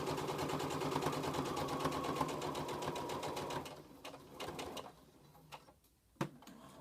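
A domestic sewing machine stitches flannel with a worn needle, its rapid even mechanical chatter running loud and close for several seconds before it slows into a few stuttering bursts and stops, followed by faint clicks.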